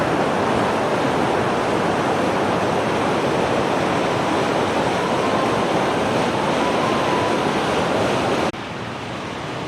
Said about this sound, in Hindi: ये आप देख सकते हैं किस तरह से लहरें उठ रही हैं जनाब इसकी।